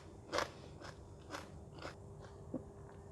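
Crispy fried spotted sickle fish cooked with fresh turmeric, bitten and chewed in a few crunchy, crackling bursts spaced about half a second apart, fairly faint and close with no talking.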